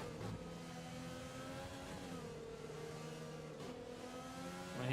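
An Alfa Romeo Formula 1 race car engine in the F1 2020 game holds a steady high-pitched whine with slight shifts in revs, loud and continuous for the whole stretch with no talk.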